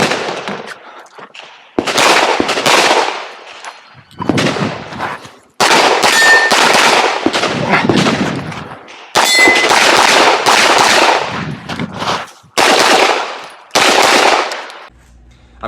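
Loud, sharp bursts of gunfire at a PCSL 2-gun match from a BCM 14.5-inch MCMR rifle and a Glock 34, in rapid strings of shots separated by short pauses, with occasional metallic clangs of steel targets.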